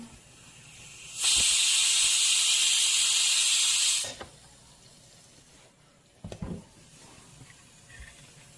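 A little oil poured into a hot pan for Madurai-style egg kalakki bursts into a loud, steady sizzling hiss lasting about three seconds, then drops away to quiet background, with a brief clatter near the end.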